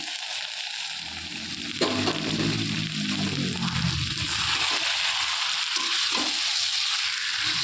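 Chicken rezala in a cashew, raisin and yogurt paste sizzles steadily in a pan while being stirred, a dense continuous frying hiss with occasional scraping stir strokes.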